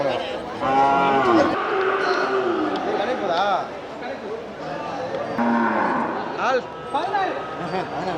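A native heifer moos several times with long, drawn-out calls at a busy cattle market in Paramakudi, while people talk and chatter close by.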